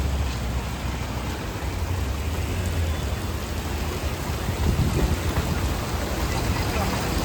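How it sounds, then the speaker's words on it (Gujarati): Steady rain falling in sunshine in Bhavnagar patters and hisses across the whole stretch, a dense even wash of drops with low rumble underneath. "તડકામાં વરસાદ ચાલુ છે"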